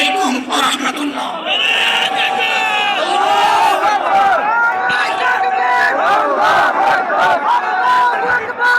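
Crowd at a national political rally in Bangladesh shouting a slogan together in loud unison, a sustained massed roar of many voices filling the whole stretch.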